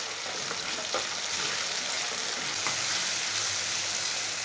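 Finely chopped tomato frying in a pan over low heat for aloo palak sabzi, an even, close sizzle with faint stirring scrapes, no talking.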